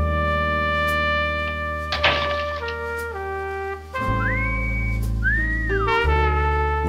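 A person whistles in a film scene, holding long sustained tones and then sliding up and down in pitch over a low continuous backing, with no talking.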